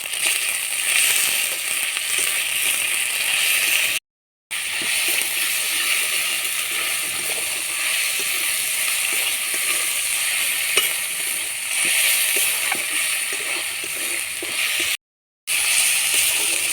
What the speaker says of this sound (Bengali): দিয়ে টমেটোগুলোকে ভেজে নেব